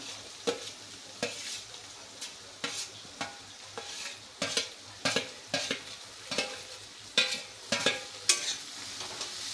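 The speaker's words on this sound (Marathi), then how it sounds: "कांदा व्यवस्थित परतून घेऊया" Onion sautés in a pan with roasted green chillies, a constant sizzle broken by regular scraping strokes of a spatula stirring, repeating about once a second, close and without speech.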